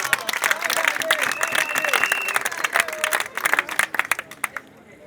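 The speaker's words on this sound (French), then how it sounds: "Applaudissez pour moi." Crowd clapping and cheering at an outdoor campaign rally in Lolo-Wagna, a dense, steady wash of applause with voices and shouts mixed in, thinning toward the end.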